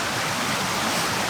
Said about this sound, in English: I've stopped at this pretty little waterfall here.